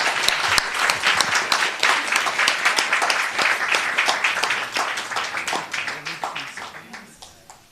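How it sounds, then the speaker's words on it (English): An audience at a spiritual lecture breaks into strong, dense hand clapping that holds steady at first and then gradually thins and fades toward the end, with no speech over it. "we will request Madhu Chandra with a massive round of applause"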